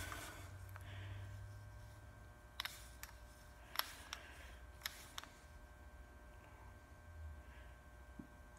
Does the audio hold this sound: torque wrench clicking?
yes